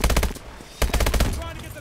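Rapid automatic gunfire from a Call of Duty: Advanced Warfare firefight, loud and close, firing in two dense bursts separated by a brief lull.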